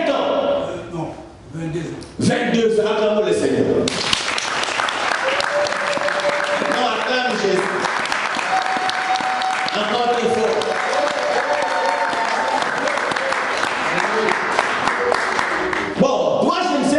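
A church congregation bursts into loud, sustained applause and cheering after a preacher speaks over a microphone, with the clapping dense and steady for about twelve seconds before voices return.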